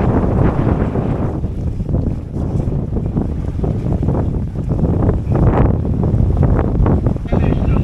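Strong wind blowing steadily across a MacGregor sailboat under sail, a loud continuous rush with microphone buffeting and water noise, while a person talks over it.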